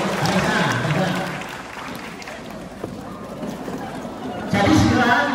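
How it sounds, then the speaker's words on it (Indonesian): Clapping from a school crowd at a parenting and spiritual training session in a hall, a noisy burst of hands and murmuring voices that thins out midway and surges again loudly at the end. "Tepuk tangan buat kita semuanya"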